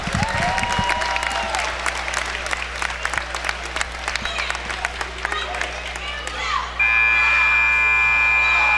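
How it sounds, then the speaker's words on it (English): A crowd at a college men's basketball game applauds the program's alumni. Clapping and cheering carry on under voices and arena noise, and a long electronic buzzer tone sounds near the end. "Let's give a round of applause for that outstanding men's basketball alumni"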